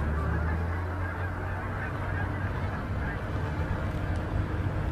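A big flock of geese honks as it flies over during a freezing-cold goose hunt, a dense continuous chorus of calls, loud and steady, with someone speaking briefly.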